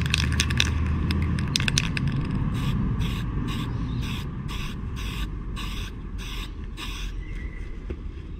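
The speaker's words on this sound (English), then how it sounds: "And now we're going to spray in black." Aerosol gloss black spray paint hisses in a run of short, evenly spaced bursts over a steady background rumble, close to the can, coating fishing floats.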